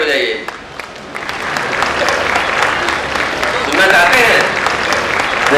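Loud audience applause at a poetry event in a hall, a steady wash of clapping lasting several seconds.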